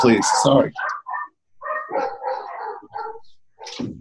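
Several dogs bark at home in sharp, loud bursts near the start, then fall quiet while someone talks over the rest.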